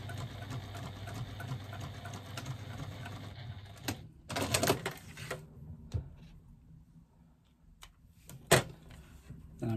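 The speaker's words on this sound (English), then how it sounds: "I'm just going to stitch across the bottom here of this card slot" A sewing machine stitches across the bottom of a fabric card slot, a steady mechanical whirr for several seconds, followed by quieter handling clicks and knocks nearby.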